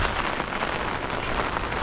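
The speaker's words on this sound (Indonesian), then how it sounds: "Cuacanya mendung, hujan" Steady heavy rain pours during a storm in a Japanese village, a dense close hiss of drops drumming on surfaces with no voices.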